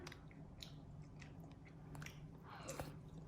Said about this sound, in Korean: 이번에는 이, 이, 이, 이, 이 전을 먹어보겠습니다